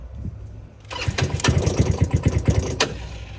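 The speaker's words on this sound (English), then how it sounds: "Carburetor's been adjusted to the gas, and let's crank it." A Talon GSX 150 R2 motorcycle with a freshly adjusted carburetor is cranked cold, a rapid mechanical cranking rhythm that catches into a loud, close, sputtering engine with no talk over it.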